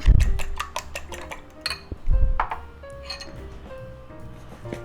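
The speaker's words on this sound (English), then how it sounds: "Just whisk them up, beat them up." Eggs beaten with a utensil in a bowl for a cabbage pie, giving a quick run of close clinks and taps against the dish, then lighter scattered ticks.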